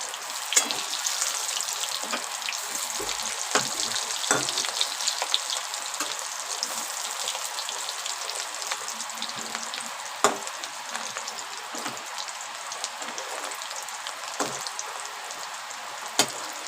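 Bora fritters frying in hot oil, a steady close crackling sizzle with scattered sharp pops and spatters throughout, no voices.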